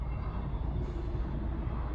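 An electric train rumbles past a level crossing, a steady, loud low roar and rattle of rail wheels that continues without a break, heard close at hand.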